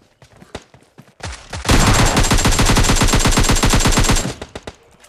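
Automatic gunfire in the mobile game PUBG Mobile Lite: a few scattered shots, then a dense sustained burst of rapid loud rounds for about two and a half seconds, tapering into a few final shots.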